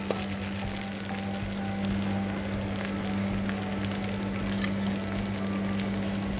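Meat sizzles and hisses steadily in a hot pan with fried aromatics and coconut cream while being stir-fried for Thai roasted shrimp paste, a dense, continuous crackle under a low, constant hum, with no talking.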